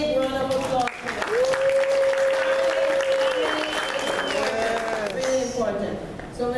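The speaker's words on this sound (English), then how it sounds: "Give the Lord a big round of applause for them." A church congregation applauding, a sustained round of clapping from many hands with voices sounding over it throughout.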